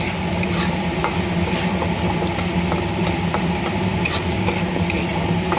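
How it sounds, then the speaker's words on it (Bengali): Lentils frying and being stirred in a pan for vegetarian khichuri: a steady, close sizzle runs throughout, with the scrape of a spoon against the pan recurring at irregular moments and no talk. "ডালটা একটু ভালো করে ভেজে নিচ্ছি লাল করে"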